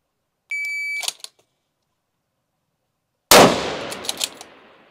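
A rifle shot cracks sharply at a long-range target on an outdoor range, loud and close with a decaying tail, preceded by a short electronic beep tone and separated from it by silence.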